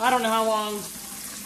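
Tap water rinses a freeze-drying jar in a kitchen while dill pickles are being freeze-dried, making a steady hiss of running water under a voice.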